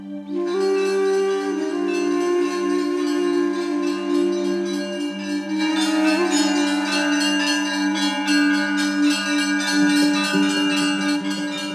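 Monastery church bells ring continuously in Greece, layered tones overlapping and sustaining, loud and resonant throughout, with no talking.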